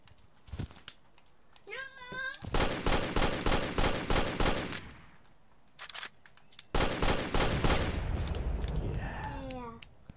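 Bursts of rapid gunfire in The Amazing Frog video game rattle through the middle and later stretches, loud and repetitive, with cartoonish wavering cat-like game sounds before and after.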